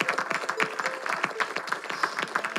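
A church congregation applauds during a service, with dense scattered clapping from many hands held at a moderate, steady level for the whole stretch.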